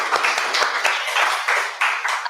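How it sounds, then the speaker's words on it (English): Audience at a pulmonology and rheumatology summit claps for itself, a close, steady round of hand claps lasting a couple of seconds without any talking. "let's give a clap to all"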